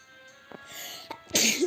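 A single sharp sneeze during Super Bear Adventure gameplay, preceded by a couple of short breathy intakes, close and fairly loud, heard alone without talk.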